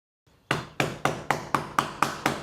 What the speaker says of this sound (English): Start hammering together your first line of tiles.